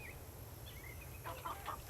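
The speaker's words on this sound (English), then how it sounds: "I just needed to wait for that chicken to leave." Soft clucking from a chicken in the Nancy Drew: The Secret of Shadow Ranch video game, a few short calls over a steady low hum of ambient game sound.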